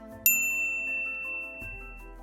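A single bright bell ding rings out and slowly fades, followed by a soft low thump near the end.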